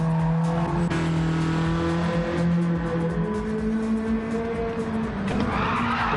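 A small race car in a GTCA championship race squealing its tires through corners, engine droning steadily with a sustained skid tone and a fresh squeal near the end, no voices.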